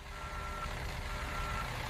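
A delivery truck at a papaya processing facility gives off a faint, steady engine drone, with soft reversing beeps sounding through it at a distance.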